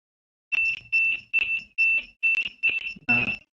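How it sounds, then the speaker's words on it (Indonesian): A buzzer on an Arduino RFID gate project gives seven short, loud, evenly spaced beeps after a brief silence, close and alone with no talking. "Jika misalkan buzzernya seperti ini, berarti belum ada Mastercard yang tersimpan atau teridentifikasi."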